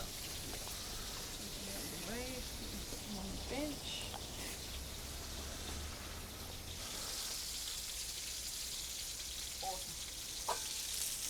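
Continuous crackling sizzle of tiger prawns frying on a hot barbecue grill, with faint voices murmuring in the background.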